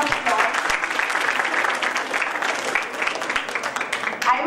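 Audience applauding at the opening of the BICON 2015 seminar, a steady dense wash of many hands clapping throughout at close, even loudness.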